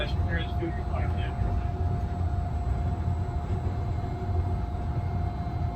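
The Disneyland Monorail Blue hums and rumbles steadily as it runs toward Tomorrowland, a continuous ride noise heard from onboard with a spoken announcement over it.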